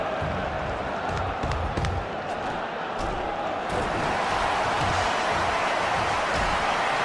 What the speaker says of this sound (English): The crowd cheering as their table's request has been fulfilled.